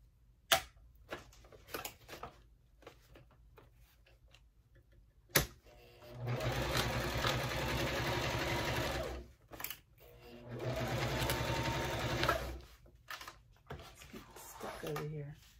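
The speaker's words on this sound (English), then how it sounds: "we're going to sew across the bottom and back up the other side and across." Sewing machine stitching a bag seam, two long steady runs of whirring stitches separated by a pause, with scattered clicks and handling noises around them.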